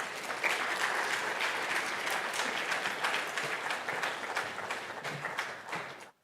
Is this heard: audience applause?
yes